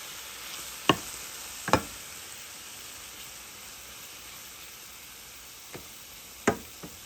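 Beef browning in a dry pan with no oil gives a faint, steady sizzle, with a few sharp isolated pops spread across the stretch.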